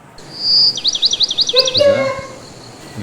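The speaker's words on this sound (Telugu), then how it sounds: "ఇక్కడ ఒక బర్డ్, తర్వాత ఇక్కడ ఒక బర్డ్ ఉంది." A bird gives a close, loud call in summer: a sustained whistle, then a quick rhythmic trill of rising notes, ending in a lower burst of chirps against a quiet background.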